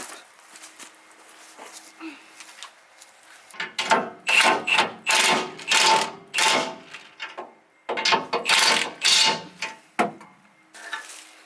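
A ratchet with a 19 mm socket tightening bolts on a new rear bumper: after a quiet start, bursts of rapid clicking come in regular strokes, close and fairly loud, with short pauses between sets.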